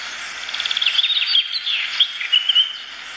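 Rainforest setting on a HoMedics white noise sleep machine: steady airy wind-like hiss with a busy layer of bright chirping and tweeting birdsong running throughout, moderately loud and continuous.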